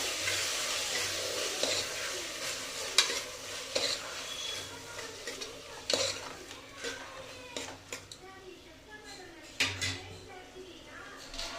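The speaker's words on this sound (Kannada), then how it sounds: "ಚೆನ್ನಾಗಿ ಎಣ್ಣೆನಲ್ಲಿ ಫ್ರೈ ಮಾಡಬೇಕು" Food fries in hot oil with a steady background sizzle while a utensil scrapes and stirs, making occasional clinks and knocks against the pan; the stirring sounds come and go irregularly.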